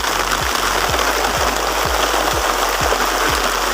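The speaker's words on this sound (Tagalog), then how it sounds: "ayun ang sobrang lakas ng ulan" Very heavy rain pours steadily onto an anahaw-leaf shelter during a rail-bird hunting trip, a loud constant hiss with low rhythmic thumps repeating about every half second underneath.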